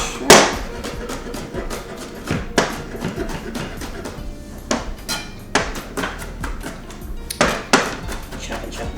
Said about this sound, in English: Chopping, chopping, chopping.